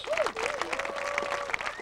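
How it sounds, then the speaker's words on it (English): A short burst of crowd applause at a disc golf world championship, steady clapping with a bright whistle-like tone sliding over it. "Let's have a nice round of applause for Barry Schultz."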